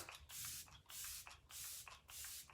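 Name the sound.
makeup setting spray being sprayed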